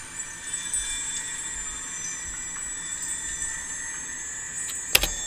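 Horror sample texture with its low end cut by EQ, plus reverb and compression, leaving a thin, bright, shimmering high-pitched drone with steady metallic squeal-like layers and a sharp crackle near the end.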